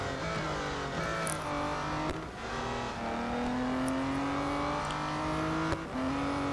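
Engine of an Aston Martin DBR1 race car in the Real Racing 3 mobile game, a steady loud drone whose pitch rises through the gears and dips at shifts, with no voices over it.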